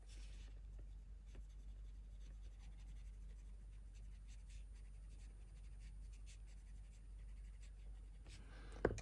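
A colored pencil scratches steadily across paper while shading, with quick repeated strokes close to the mic over a faint low hum, and a brief louder scrape near the end.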